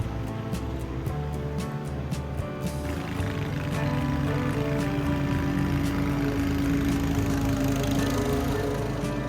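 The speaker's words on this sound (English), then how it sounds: "Toro's Time Master lawnmower lays down some really sweet natural stripes." A Toro Time Master lawn mower engine drones steadily throughout, a continuous close mechanical hum with a slight rise in pitch partway through.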